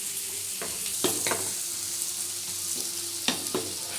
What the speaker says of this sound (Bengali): এবার আমি কিছুটা সময় ভাজবো। ভেজে যতটা সময় লাল না হবে ততটা সময় এটাকে ভাজতে হবে।